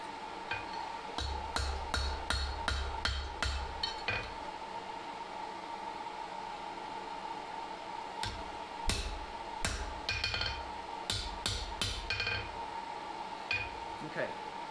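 A bigger hammer pounds cooling steel for a fire poker in two clusters of sharp blows, the first near the start and the second after a quiet pause, over a faint steady background hum.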